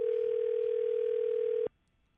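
A single steady telephone ringback tone sounds while calling someone, holding for about a second and a half before cutting off abruptly into near silence.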